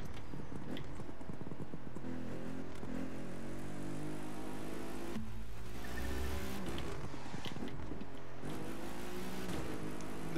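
Audi RS5 Coupe 2018 in The Crew 2, engine revving up through gears with rising tones and a couple of shift drops, moderately loud and continuous, no talking.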